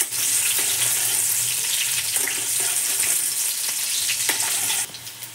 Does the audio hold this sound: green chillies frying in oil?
yes